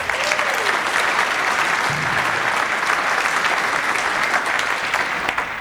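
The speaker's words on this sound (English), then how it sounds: "Let's give Amy a round of applause." Audience applause at a summit for a session facilitator, a dense, steady round of clapping from a sizable crowd that carries on for several seconds.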